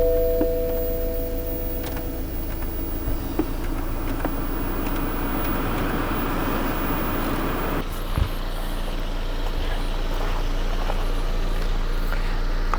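An ozone generator runs inside a closed car, a steady breathy hum with continuous broadband noise and a low drone, alone with no talk and a small thump near the end.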